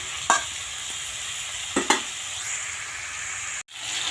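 Steady sizzling of potato and cauliflower frying in a pan, with a few sharp stirring scrapes and clinks; no talking.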